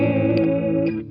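An analog multi-effects guitar pedal set to chorus thickens a sustained guitar chord into a shimmering, doubled tone, with brief higher flickers before it cuts off after about a second.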